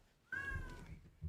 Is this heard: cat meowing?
yes